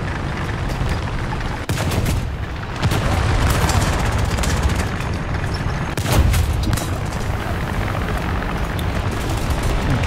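A Strv m/31 tank cannon fires in a War Thunder ground realistic battle, with a few loud, sharp booms spread across a dense, continuous rumble of battlefield noise.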